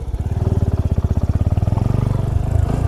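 A motorcycle engine labours up a steep mountain road, loud and close, its rapid pulsing beat holding steady and then thickening as the revs rise near the end.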